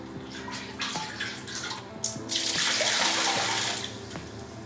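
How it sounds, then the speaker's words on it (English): Water runs steadily from a tap to refill a household water supply, with a broad hiss that grows louder midway, faint knocking sounds underneath, and no voices. "My water supply is about to run out, so it's a time to refill it."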